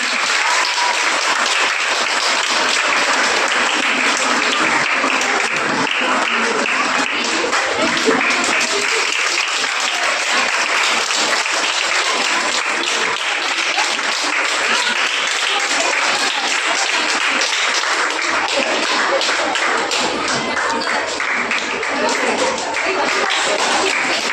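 Sustained, dense applause from a large audience of students at a school Krishna Jayanti competition, steady and loud throughout with little let-up.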